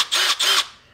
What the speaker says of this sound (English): This wheel comes with this attachment to allow you to connect it to a drill.